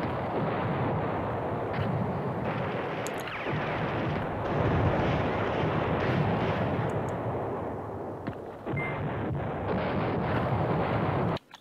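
Sustained gunfire and artillery from units in the World War II strategy game Command Ops 2 at the Manhay Crossroads battle, a dense continuous rumble of shots and blasts lasting throughout with no talk.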